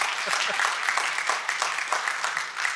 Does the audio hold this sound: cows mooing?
no